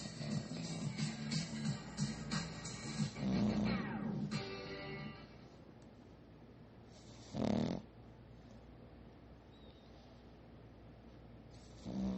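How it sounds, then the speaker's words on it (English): Soft, rhythmic snoring from a six-month-old pug puppy, slow breaths with snorting rumbles, close by and fairly faint, with a louder snort partway through. "Let's see if y'all can hear Chewy snoring now"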